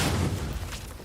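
A grenade goes off in The Outer Worlds 2 as a single muffled boom that fades out over about a second, with no talk over it.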